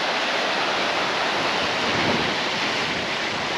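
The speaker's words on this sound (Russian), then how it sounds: "Слушаем шум прибоя." Winter sea surf on a Crimean beach near Ordzhonikidze, a continuous broadband wash of breaking waves with wind noise on the microphone, steady and loud with no talking.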